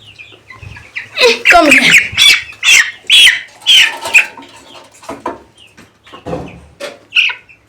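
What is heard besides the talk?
chicks chirping while being weighed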